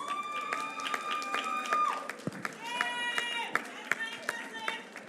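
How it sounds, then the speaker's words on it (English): An audience at an awards ceremony claps at a distance, the applause blending with music and a voice speaking over it. "Give her a round of applause, please."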